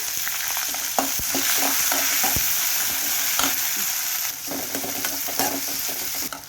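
Onion tossed into a frying pan with mustard seeds, cumin and urad dal, sizzling steadily and loudly up close while a utensil stirs with scattered scraping clicks; no talking.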